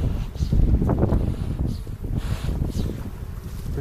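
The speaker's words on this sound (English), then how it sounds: "it's pretty windy out," Strong gusty wind roars and buffets the microphone outdoors beside a beehive, a loud rumbling rush with no speech.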